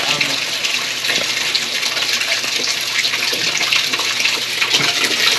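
Water gushes steadily from a tap, a continuous close splashing flow with a faint hum beneath it throughout.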